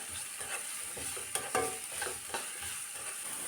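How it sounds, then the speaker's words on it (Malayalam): Onions and curry leaves sauté in a pan, a soft steady sizzle broken by a few sharp scrapes and clicks of a spoon stirring, close and fairly quiet with no talking. "ഇനി ഇതെല്ലാം ഒന്ന് നല്ലവണ്ണം ഇളക്കി കൊടുക്കാം."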